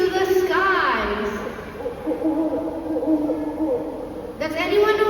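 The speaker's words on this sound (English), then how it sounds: "Now that was a familiar call of an owl." An owl's hooting call plays during a Night Safari Singapore animal show, a wavering tonal hoot heard clearly and fairly loud with crowd ambience behind it.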